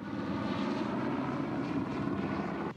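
Firefighting aircraft and helicopters work over forest fires, a steady droning engine roar rumbling continuously at moderate distance with no voices.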